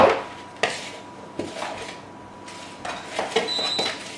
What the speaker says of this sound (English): And then you stir it all together.